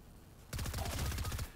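Sniper rifle gunfire in a video game: a sudden burst of sharp, rapid shots breaks a quiet moment and repeats in quick succession, loud and close.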